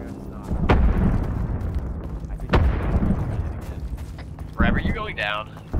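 Two heavy explosions in ARMA 3 boom close by about two seconds apart, each with a long rumbling tail, followed by a sharper burst near the end while players talk over the battle.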